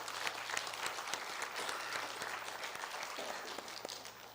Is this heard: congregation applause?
yes